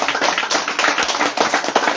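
Church congregation applauding the Lord together, a dense continuous wash of many hands clapping close and loud, without voices.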